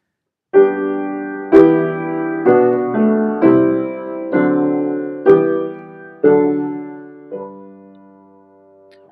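A slow Bach chorale played as sustained block chords, each new chord struck and decaying, ending with a softer fading chord.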